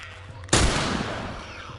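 A single sharp gunshot in The Last of Us Remastered, a sudden loud blast with a decaying rumbling tail, preceded by a quiet low background.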